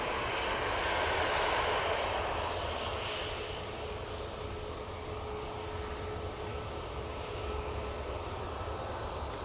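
An Emirates airliner at Manchester Airport produces a steady jet engine rumble, a little louder at first and then holding even throughout, with no talk over it.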